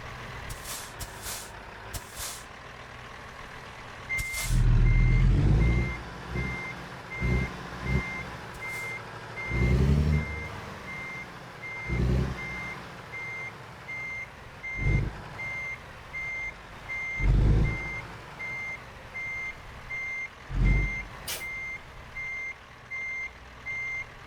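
Truck reversing alarm in American Truck Simulator, a steady run of evenly spaced beeps at a moderate level, joined by several deep air-brake hisses and engine surges, with no talk.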